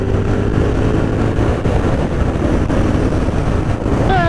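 A CF Moto 450 SR-S motorcycle riding in fourth gear at about 40 mph, with a loud, steady engine drone heavily mixed with wind rush over the microphone throughout.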